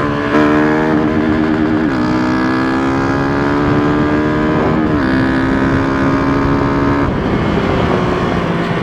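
A motorcycle engine revs loudly up through rising pitch sweeps, dropping briefly between gear changes, close and continuous with wind buffeting.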